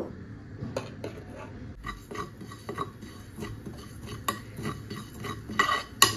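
Whole cumin seeds are dry-roasted in a hot wok (kadai), with a spatula scraping and clinking against the metal in quick, light strokes over a faint crackle, close and fairly quiet.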